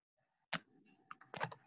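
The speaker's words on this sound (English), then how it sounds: "Yes, I'm typing the question." A few sharp keystroke clicks on a computer keyboard during a Zoom video conference, a quick tap followed by a short burst of typing, close and fairly quiet over low background noise.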